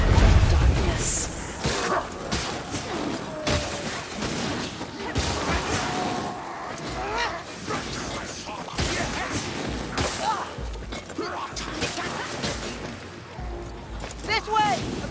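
Rapid, dense gunfire from a Ratling gunner in the co-op game Vermintide 2 crackles through chaotic battle noise. Character voices call out over the shooting, and the barrage is sustained and fairly close.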